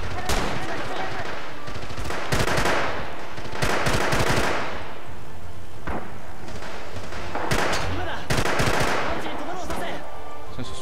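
Heavy gunfire in Red Orchestra 2: Rising Storm: bursts of rapid machine-gun fire and single rifle shots come in loud, separated waves, with booming reports echoing between volleys and no clear talk.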